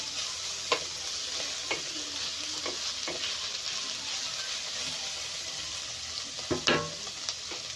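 Cabbage and noodles fry in a pan over a high flame, a constant sizzle broken by sporadic clicks and taps of a spatula stirring, with no talking.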